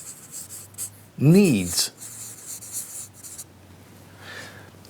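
A pen scratches across a chart in short strokes, faint and close, under a person speaking.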